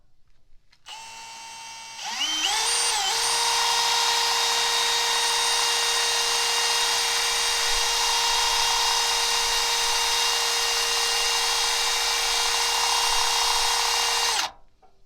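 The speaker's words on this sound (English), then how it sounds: "it came with this fancy little, basically like a hole saw. Let's see how this works" A power drill fitted with a hole saw bit spins up to a steady, close, high-pitched whine that holds for about twelve seconds before stopping abruptly, with no talk over it.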